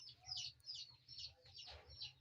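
An Amrohi Aseel hen clucks in short repeated bursts at close range, outdoors in the early morning, with a low background rumble between calls.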